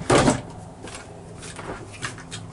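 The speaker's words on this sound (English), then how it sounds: "Two full pull storage drawers" A full-pull storage drawer on a 2019 Polar 990 truck camper sliding and thudding, with a loud bump at the start and a few softer clunks and rattles afterward, no talk.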